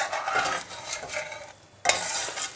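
Soft hissing sizzle of Kashmiri masala paste on a gentle simmer in a pan, steady and close with brief stirring scrapes and a short quieter gap before the bubbling resumes; no voices.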